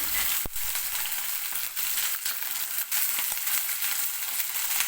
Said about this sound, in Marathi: आणि आता मी वाटाणे सुद्धा टाकणार आहे.